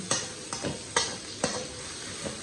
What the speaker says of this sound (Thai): ใส่เนื้อหมูลงไป ผัดเนื้อหมูก่อน